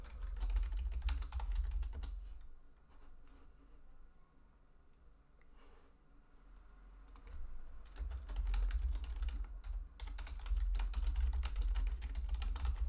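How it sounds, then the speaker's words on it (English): Steady clicking of someone typing on a computer keyboard, close and continuous, with a brief quieter lull in the middle before the keystrokes pick up again. "If you do hear typing, that is just me making alerts"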